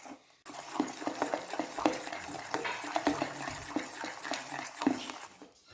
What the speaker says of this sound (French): Donc là, je touille